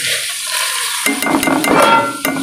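Carrots go into chicken already frying in a pan. A quiet hiss gives way to a louder burst of sizzling, and then clinks and scrapes of stirring against the pan are heard with no talk.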